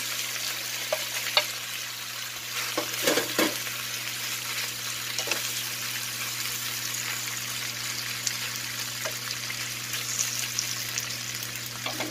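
Pieces of tenderized pork steak sizzle steadily in a hot pan as they go back in, a constant close frying hiss with a few clinks and stirring knocks and no talking.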